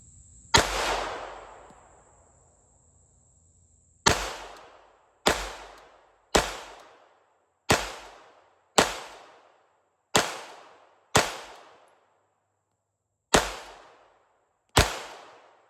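A pistol firing S&B surplus .32 ACP 73 grain full metal jacket rounds outdoors, ten sharp loud shots, one opening shot followed after a pause by nine in an irregular string, each ending in a short ringing decay.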